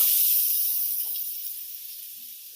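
Onions sizzle on a Blackstone E Series electric griddle, giving a steady, loud, close hiss of frying that eases off slightly over a few seconds, with no voices.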